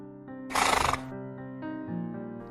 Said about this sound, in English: Next animal is horse.